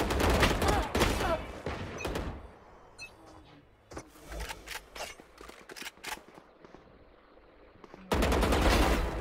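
Vandal rifle spray fire in Valorant: dense bursts of rapid automatic shots at the start and end, with scattered single shots and clicks in a quieter middle stretch.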